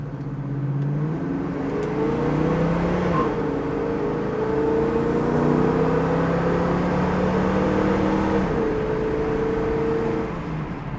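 A 1970 Chevrolet Camaro engine revs up through a few rising gear pulls, a steady whining drone close by that climbs in pitch, drops, then climbs again.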